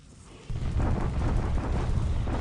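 Artillery bombardment explosions in a World War II strategy game set in China, a sudden loud rumbling roar that starts partway through and keeps booming on.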